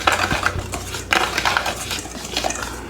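Whisk clattering steadily against a bowl while buttermilk pancake batter is beaten, a busy, close metallic scraping and tapping throughout with no voices.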